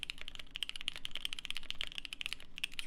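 A Bakeneko mechanical keyboard fitted with Durock L7 switches is typed on in a quick, steady stream of close, crisp keystrokes with no talking.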